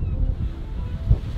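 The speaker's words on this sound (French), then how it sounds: "On voit les vagues qui commencent à taper sur le sillon." Storm waves beginning to strike the Sillon seawall at Saint-Malo during a high spring tide, heard as a continuous low roar of surf and wind buffeting the microphone, with one heavier thud of impact near the end.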